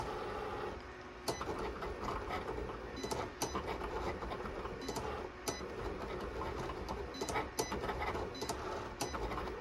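Steady mechanical whirring and rattling of a vinyl cutting machine cutting permanent vinyl for a tumbler, with sharp intermittent clicks and ticks, no voices.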